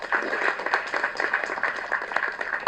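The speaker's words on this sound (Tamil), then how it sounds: "தயவு செஞ்சு ஒரு கைத்தட்டல் கொடுங்க" An audience at a Tamil event applauds, a steady patter of many hands clapping at moderate volume with faint background chatter.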